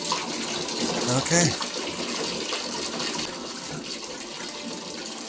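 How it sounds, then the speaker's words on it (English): Water runs from a wide-open bathtub tap during pipe flushing after a water filter replacement, a steady broadband rush that continues throughout, with a short spoken word early on. "got the bathtub tap wide open to see if any junk comes out of it or anything"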